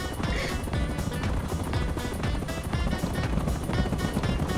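Attack helicopter in the video game Rust, a loud, continuous rotor roar with thumping blade chop that fills the whole stretch, up close and steady with no pauses.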